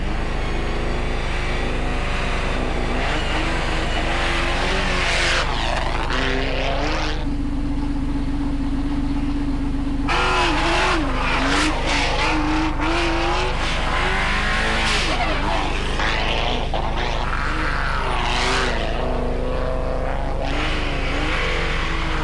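A rally car driving the Fromelles special stage on slick tyres, Laurent Sanson's car opening the rally, roars loud and close with the engine revving and shifting gears, rising and falling pitch, and brief lifts between bursts of acceleration.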